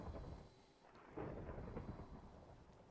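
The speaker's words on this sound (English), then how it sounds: "This is some heavy downpour." Heavy rain pours steadily while deep thunder rumbles and swells, a loud continuous storm with no voices, in modded Minecraft.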